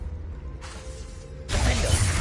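Bombarda and Confringo spells cast in Hogwarts Legacy gameplay, a mechanical whooshing burst followed by a louder, crackling shattering blast that sustains to the end, loud and close.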